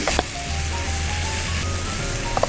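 Ginger, garlic, onion and chilies sautéing in a pan with shrimp heads, a steady close sizzle and crackle of oil holding even throughout.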